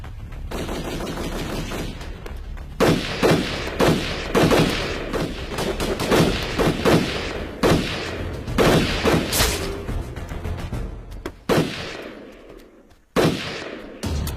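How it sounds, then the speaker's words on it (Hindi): Rapid bursts of automatic gunfire crackle through a tense armed confrontation, dense and loud with volleys clustering in the middle and thinning toward the end, broken by brief gaps. "फायरिंग हो रही?"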